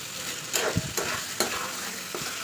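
Mutton stirred and fried in a pan, with a steady close sizzle broken by several sharp scraping knocks of the spoon against the pan.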